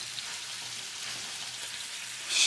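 Beef sizzling in butter and garlic in a pan, a steady close hiss of frying with a brief louder surge at the end, no talking.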